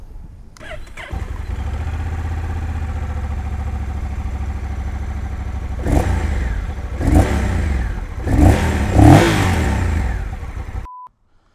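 Honda Rebel 1100 DCT motorcycle engine cranking and starting, then settling into a steady idle before several sharp throttle blips rev it up close by, with a short beep at the end.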